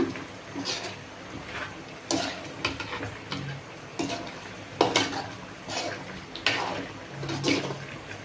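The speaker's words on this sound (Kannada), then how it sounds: "ಸೊ ಈ ಥರ ಬಿಟ್ಟಿದ್ದಾದಮೇಲೆ ಒಂದೊಂದ್ಸಲ ಮಿಕ್ಸ್ ಮಾಡ್ಕೊಳ್ಳೋಣ" Chicken fry in oil is stirred in a pan, with a string of scraping, clinking strokes of the spoon over a soft sizzle, spaced irregularly and fairly close.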